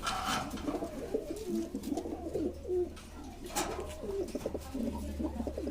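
Aparajita pigeons in a breeding loft, several birds cooing in overlapping throaty, bubbling calls, close and continuous over a low background hum.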